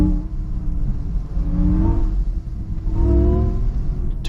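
An MG Cyberster electric sports car accelerates with its artificial engine sound, a steady loud whirring rumble rising in pitch twice over about four seconds.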